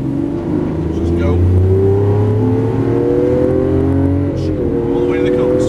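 A 2012 Lamborghini Aventador in Verde Ithaca pulling away on a Las Vegas track, its engine a loud, close, sustained roar climbing steadily in pitch with a brief dip near the end, faint voices underneath.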